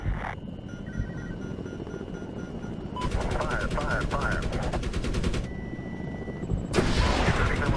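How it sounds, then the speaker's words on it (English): Rapid cannon fire from a 30 mm helicopter gun in the Medal of Honor (2010) war game, coming in two dense bursts of rattling shots over a steady engine drone, with a voice talking over it. "30 millimeter will take out those dismounts, but the Hellfire will get rid of the position."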